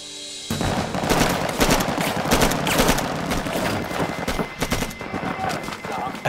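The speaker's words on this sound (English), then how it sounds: "At the sound of gunfire" Bursts of wartime gunfire in a desert firefight with an Iraqi patrol, heavy overlapping shots and rumbling booms sustained throughout at close range, with no speech over them.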